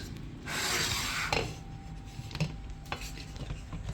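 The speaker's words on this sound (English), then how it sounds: "I'll give it another mix." Pad krapow stir-fry being mixed in a pan, a steady scraping and rubbing of a utensil against the metal pan for about a second, then softer intermittent clinks and scrapes, with no talking.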